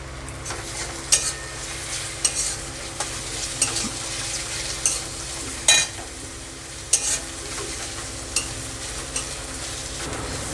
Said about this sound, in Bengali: এবার লঙ্কাটা আর রসুনটা আর একটু দিয়ে ভেজে নেব